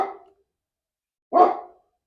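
Dogs bark in two short separate bursts, the first fading out at the start and a louder one after a pause of about a second, heard nearby with no talk.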